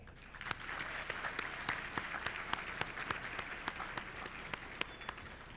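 An audience at the WSU Multicultural Graduation applauds the faculty and staff, a steady, distant-sounding wash of many hands clapping with crisp individual claps standing out, no voices over it.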